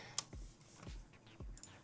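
Keys on a compact Keychron K4 mechanical keyboard with numpad click in a few quiet, separate strokes, close up, with a near-silent room between presses.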